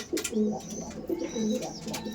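Kalanka pigeons cooing softly in repeated low, throaty phrases, a few birds close by in a loft with faint background rustle.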